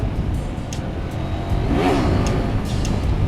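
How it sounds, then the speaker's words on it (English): A parallel twin motorcycle revs hard while attempting a wheelie in third gear, its engine note climbing loudly and close through a brief surge of acceleration with wind rush. "Let's see if I can pop a wheelie in 3rd gear here."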